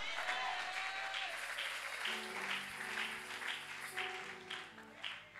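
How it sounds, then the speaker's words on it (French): A church congregation applauding with Alleluia acclamations, a continuous wash of clapping and crowd sound under sustained sung or organ-like tones, moderately distant and fairly quiet. "j'aime bien ces acclamations du Alléluia."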